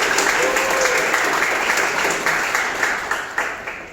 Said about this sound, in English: let's hear a big round of applause to the chair